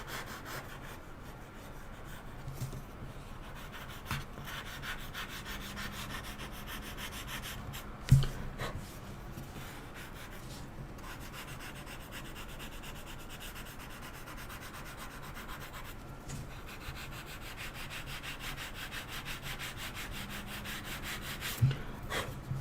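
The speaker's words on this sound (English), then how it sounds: "sand the edges slightly" Miniature wooden floor pieces having their edges lightly sanded by hand, a steady soft scratchy rubbing that continues for a long stretch with a couple of sharper knocks, close and fairly quiet, no voices.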